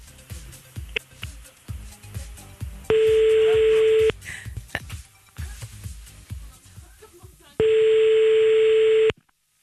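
A French phone line on a randomly dialled call gives two long, loud steady ringback tones between bursts of rhythmic pattering and clicks, the line tone cutting off abruptly.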